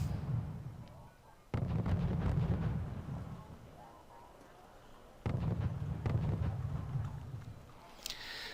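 Artillery bombardment in a wartime video game sounds as two heavy, booming blasts a few seconds apart, each followed by a long rolling low rumble, with a lighter impact at the end.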